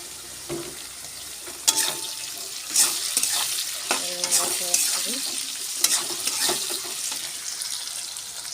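Chopped tomato and green chilli dropped into a frying pan, a loud close sizzle with repeated spatula scrapes and clatters spread through the clip, faint talk in the background.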